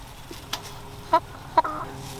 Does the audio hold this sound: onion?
no